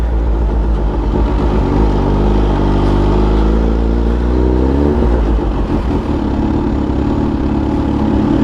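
A supercharged 2021 Kawasaki ZH2 motorcycle engine revs loud and close, its pitch rising and then settling again as the throttle is worked, with a constant deep rumble underneath and no voices.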